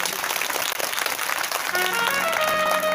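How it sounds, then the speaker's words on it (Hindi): A religious discourse audience on a Brahmin upbringing breaks into loud applause, dense clapping that shifts to a sustained musical tone with steady harmonic lines partway through. "एक बार जोरदार ताली बजा दे"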